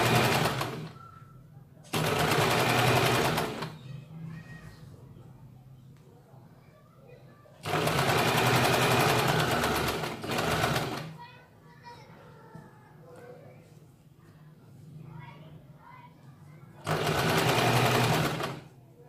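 A sewing machine stitches a blouse back from the canvas side in three bursts of steady, close mechanical running, with someone talking during the pauses between them.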